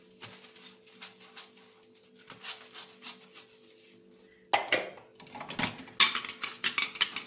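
Dishes and cutlery clatter and scrape at a sink, soft at first, then louder with sharp clinks and rubbing toward the end.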